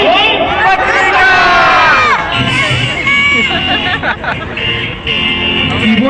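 A group of people at Patrika Gate in Jaipur shout together loudly in one burst, followed by scattered cheering and chatter with a passing vehicle in the background.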